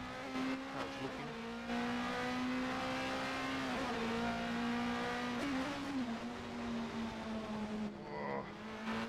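A race car in a racing video game heard from the onboard camera: a loud, sustained engine drone that holds a steady pitch, dipping and rising slightly through gear and throttle changes, close and continuous.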